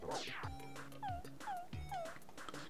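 A small dog in a video game whimpers and yips, several short rising whines repeated in quick succession alongside low game sounds.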